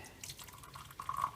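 Hot water is poured onto Starbucks VIA Pike Place Roast instant coffee, a soft trickling stream that grows louder and brighter toward the end, close and alone.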